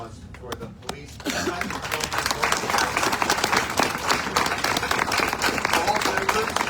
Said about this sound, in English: how about one more round of applause for the police?